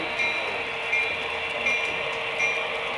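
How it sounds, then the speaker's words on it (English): A model freight train, a Seaboard Air Line fast freight, runs steadily around a layout in a continuous bright mechanical whir with a faint repeating rail click, moderately loud and alone. "I'll get your train coming around."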